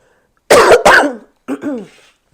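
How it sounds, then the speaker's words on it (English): Two sharp coughs in quick succession, followed by a softer throat-clearing cough, close and loud with no other sound. "Excuse my cough."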